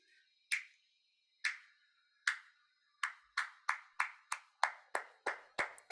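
Thin, high-pass filtered hand claps with the low body stripped away, starting as three spaced claps and then speeding into a quicker run of about ten crisp, close, quiet claps.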